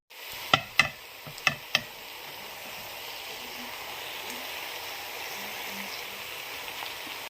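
Half-cooked rice goes into a pan of vegetable masala for biryani: a few sharp knocks and thuds at the start, then a continuous soft sizzle and scraping stir with no talking.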